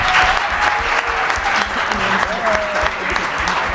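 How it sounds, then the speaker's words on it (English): An audience at a high school academic challenge event claps loudly and continuously for honored students, with voices and a brief whoop mixed into the applause. "Let's give them a round of applause."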